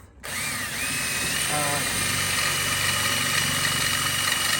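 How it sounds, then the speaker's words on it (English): A power drill whines continuously at high speed, re-drilling through metal seat brackets in a Vauxhall Vivaro van, loud and close, with a brief rattling catch partway through. "I'm just re-drilling through these just to try and get these bottom brackets off."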